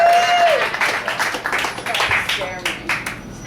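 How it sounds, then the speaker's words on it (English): Audience at a live comedy roast in a Richmond, Virginia cafe breaks into a burst of clapping and cheering, dense and close at first, then thinning out, with voices mixed in. "give a big round of applause to Brown Frown the Clown"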